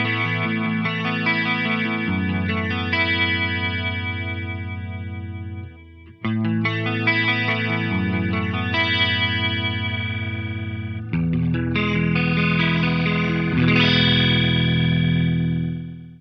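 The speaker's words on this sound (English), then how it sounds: "Turning it to noon or mix of 100 gives you a vibrato effect." Guitar chords through an Eventide H9 pedal on the Tricerachorus algorithm at full mix, giving a wavering vibrato, sustained and loud across three strummed passages with no talking.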